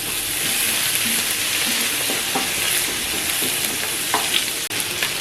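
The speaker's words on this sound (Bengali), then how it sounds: "আর মধ্যে পেঁয়াজটা একটুখানি ভাজা হোক" Onion fries with black cumin in a hot pan, producing a loud, dense, continuous sizzle with faint occasional stirring scrapes and a brief dip near the end, no voices present.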